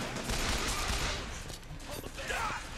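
A repeater automatic weapon fires in Bioshock Infinite as a dense, crackling burst of gunfire and impacts lasting a few seconds, fairly quiet under a busy game mix.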